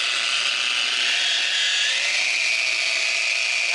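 A Maxshine M21 polisher runs steadily over scratched paint with a continuous high whirring hum, close and even, its pitch rising slightly partway through as the speed goes up.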